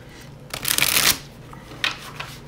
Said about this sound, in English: I'm going to be silent while I shuffle